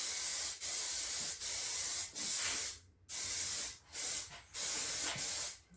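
Aerosol can spraying transparent Plasti Dip rubber coating in repeated bursts of steady hiss, each about a second long with short gaps between, close and loud with no voices.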